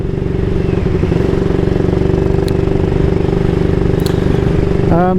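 A 1938 AJS Model 22 250cc motorcycle engine pulls steadily in top gear under way, a close, continuous throbbing exhaust beat with a brief rising rev near the end.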